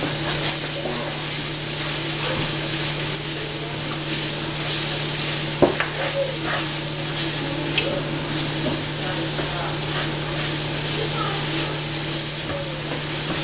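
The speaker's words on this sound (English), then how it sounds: "we're just gonna stir it, which will cook this flour in this butter with these vegetables" Flour being stirred into butter and sautéing vegetables in a pan to make a roux for shrimp Velveeta fettuccine, a steady close sizzle and hiss with faint scraping from the stirring throughout.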